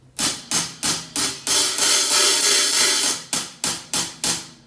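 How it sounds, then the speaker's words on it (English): Sharp metallic strikes on a drum kit hi-hat repeat in a steady rhythm, then a sustained washy shimmer, then more crisp evenly spaced hits, played closed and open. "You can play the hi-hat either with your foot, like this, or with your hands."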